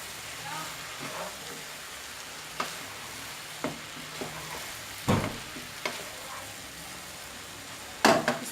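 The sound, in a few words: boiled spaghetti mixed with vegetables in a pan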